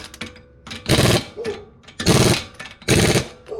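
Wheel lug nuts being tightened on a 2014 Honda CR-V: three loud, close bursts of harsh mechanical rattling, each about half a second long, with quieter clicks and rustling between them.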